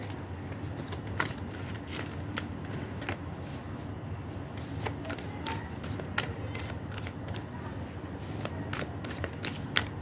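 Tarot cards shuffled and handled on a table, a steady papery rustle broken by repeated soft snaps and flicks, close and fairly quiet throughout.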